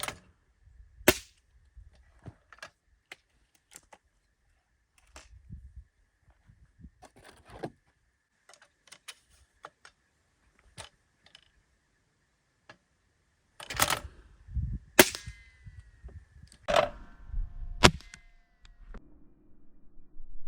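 Break-barrel pellet air rifle fired at thrown clay pigeons outdoors, sharp isolated cracks and clicks spaced irregularly over quiet background, growing denser with louder snaps and handling noise toward the end.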